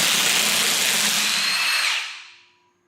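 Impact wrench removing Loctite-coated bolts from a blown Toyota Supra differential through a socket adapter, one close, loud sustained burst lasting about two seconds before winding down to silence.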